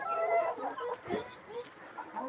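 Chickens and grown roosters cluck in a coop, a close, busy jumble of soft clucks and short calls that carries on throughout.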